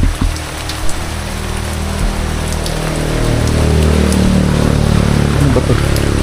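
Rain falls steadily outside a chapel in Davao, making a continuous, close hiss that grows slightly louder toward the end.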